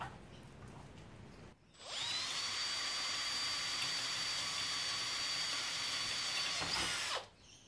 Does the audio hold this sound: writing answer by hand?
no